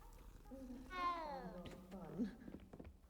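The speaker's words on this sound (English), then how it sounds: "Pet the kitty. I got an orange cat." An orange cat meows in the video game Hogwarts Legacy, giving two drawn-out, falling meows. They sound fairly close and soft, and a quiet voice speaks around them.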